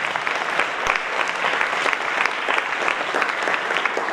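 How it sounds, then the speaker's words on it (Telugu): An audience at a school talent-test event applauds for a district education officer with continuous dense clapping, loud and even throughout, with no voices over it. "జిల్లా విద్యాశాఖ అధికారి గారికి మనందరి తరఫున చప్పట్లతో ఒకసారి హృదయపూర్వక"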